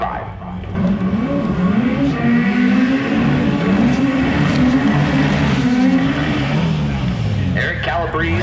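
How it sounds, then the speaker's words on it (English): A pro modified drag car launches without a burnout and spins its tires, a loud sustained engine roar with wavering pitch running throughout, heard under an announcer's commentary. "Steve Phillips absolutely annihilates the tires as he didn't do a burnout"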